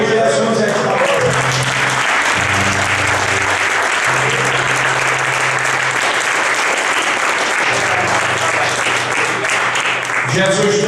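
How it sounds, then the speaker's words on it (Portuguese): A church congregation claps continuously and loudly, a dense wash of applause sustained throughout, with a low voice occasionally audible beneath. "Quem pode aplaudir Jesus esta noite?"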